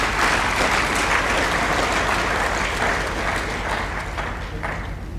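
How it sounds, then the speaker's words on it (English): A crowd at a school sports awards night applauds steadily and loudly, dense clapping that holds for several seconds before easing slightly toward the end. "let's give a round of applause to our families"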